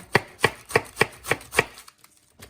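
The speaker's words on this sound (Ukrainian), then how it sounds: "Дуже мілко нарізаємо." A knife finely chopping cabbage on a board, six quick crisp cuts in an even rhythm, then a pause and one last faint cut, close and quiet.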